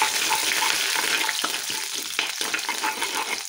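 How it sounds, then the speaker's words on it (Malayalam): Ginger and garlic frying in hot oil after mustard seeds have popped, a steady close sizzle with light crackles and occasional stirring scrapes. "ഇവിടെ നമുക്ക് കടുവൊക്കെ പൊട്ടി അതിലേക്ക് നമുക്ക് ഇഞ്ചി വെളുത്തുള്ളി ചേർക്കാം"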